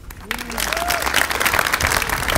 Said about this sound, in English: I'd like to give a round of applause to the building trades